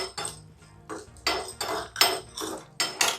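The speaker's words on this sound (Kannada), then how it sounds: "ಇದನ್ನ ಸಣ್ಣ ಉರಿಯಲ್ಲಿ ಡ್ರೈ ಫ್ರೈ ಮಾಡ್ಕೊಳ್ಬೇಕು ಚೆನ್ನಾಗಿ." Spices, including cardamom, are dry roasted in a pan over a low flame for masala tea. A spoon stirs them in repeated bursts of metallic clinks and scraping, close and fairly quiet, with no talking.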